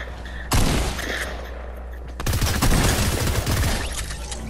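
Rapid gunfire in a Fortnite Battle Royale match: a short opening volley, then heavier continuous bursts of shots that last several seconds, fairly loud.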